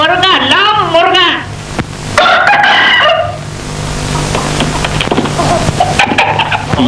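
A rooster crows in a film scene, its drawn-out call rising and falling over lively voices, with bird clucks and busy crowd noise in the background.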